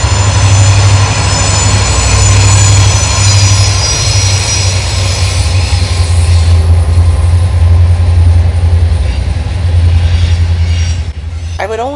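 CSX freight train Z744 rolls past at close range near Columbus, Ohio, with a loud, continuous rumble of wagons and wheels on rail that holds steady across the whole pass.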